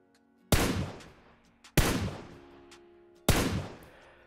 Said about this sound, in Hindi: आप लोगों को कितने शॉट्स फायर करने पड़ेंगे M4 से।